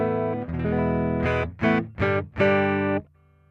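A guitar plugged straight into Logic with the Boss SY-1 synthesizer switched off plays a few clean, close, sustained chords and strummed notes with short gaps between them, then rings out into a quiet hum.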